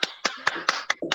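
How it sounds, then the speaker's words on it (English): A few sharp hand claps ring out alone in a quick, slightly uneven rhythm, about six claps close to the microphone. "I'll do my little claps here as well."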